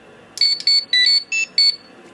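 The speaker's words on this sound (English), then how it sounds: "you can push the button and it plays random sounds" Five short bursts of bright electronic beeping tones from a Power Rangers Legacy Communicator toy, Zeo Gold Ranger Edition, evenly spaced in a quick rhythm, with quiet gaps between them.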